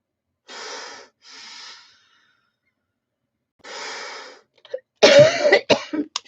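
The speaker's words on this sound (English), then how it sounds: "this could be a cough" A few breathy, wheezy exhalations with pauses between, then a burst of harsh, close coughing at the end.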